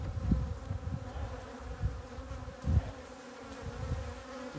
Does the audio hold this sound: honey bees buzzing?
yes